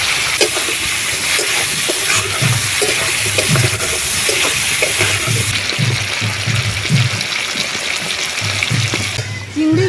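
Dried red chillies, black cumin seeds, curry leaves and bay leaves hit hot oil in a village kitchen, giving a loud, steady hiss and crackle that runs throughout with a brief shift near the end.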